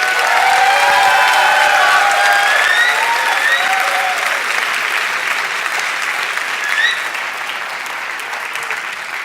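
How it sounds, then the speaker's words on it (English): An audience at a graduation ceremony applauds the graduates, with dense, sustained clapping that fills the hall and slowly thins toward the end. "A warm applause for all the graduates from the HCID track."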